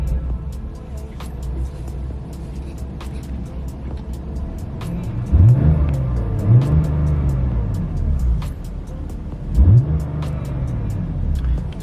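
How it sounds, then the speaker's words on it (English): A BMW F80 M3 Competition engine fires up and is revved, with a starter catch, a low idle rumble, and two sharp revs that rise and fall, heard close by. "Okay, so let's just fire up the car."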